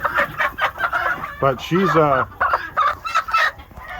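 Hens and chickens on a farm clucking close by in bursts, including an older hen, with a brief crow-like call in the middle while a person talks quietly over them.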